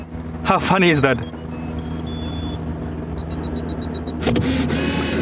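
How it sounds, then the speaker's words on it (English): A Canon EOS 35mm film camera's self-timer beeps in a steady, evenly spaced series of short high tones, heard after a person speaks briefly, with a car passing nearby before and after. "this is the sound of the timer"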